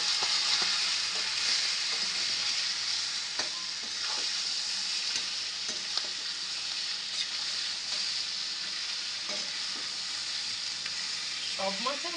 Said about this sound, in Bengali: এবার আমি মাথাটা ভেজে নিচ্ছি।